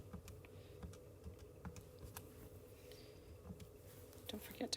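Calculator keys pressed one after another while working out circle areas, a run of soft, quick taps close by with a few sharper clicks near the end, over a low background murmur.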